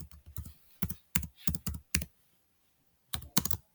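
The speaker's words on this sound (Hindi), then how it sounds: "डायरेक्ट आप टाइपिंग स्टार्ट कर सकते हैं" Fingers type on a computer keyboard while editing a file in the nano editor on Linux: close, crisp bursts of key clicks, a short pause, then another quick flurry.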